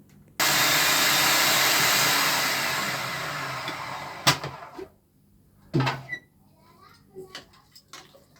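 An electric chopper whirs loudly for about four seconds, grinding a rice kofta mixture, then cuts off, followed by clunks and clatter of the appliance and a short burst of speech.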